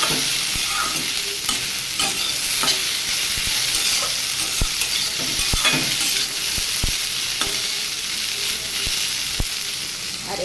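Loud, steady sizzling of okra frying in hot oil, broken by sharp clacks of a utensil stirring and scraping the pan.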